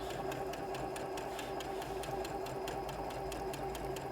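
Sewing machine with a ruffler attachment running steadily at a long stitch length and tight tension, gathering fabric with a fast, even mechanical chatter and regular clicking, close and fairly quiet, with no other sounds.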